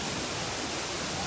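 Steady roar of a waterfall at Attila falls in Palakkad's hills, a dense broadband rush of falling water that fills the scene evenly without pause.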